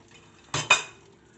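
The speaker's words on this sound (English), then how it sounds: "take it off the heat and then put the lid on" Two quick metallic clanks close by as a lid is set onto a frying pan, the second ringing briefly before fading into quiet.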